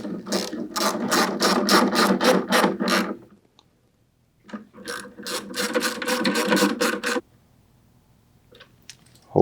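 Ratcheting clicks from a hand tool tightening a hose clamp onto a diesel heater hose, two loud bursts of rapid, evenly spaced clicks with a pause between, close by and with no talk.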